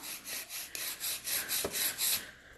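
A coarse 100 grit file rasps across a fingernail during a nail tip application, giving close, rhythmic back-and-forth scratching strokes, about a dozen in quick succession, with no talk over them.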